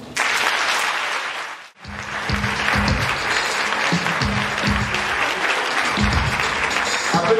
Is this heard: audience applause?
yes